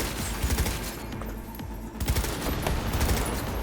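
Rapid bursts of automatic gunfire in the video game Cyberpunk 2077, a dense rattling fusillade that stays loud and close throughout the short stretch.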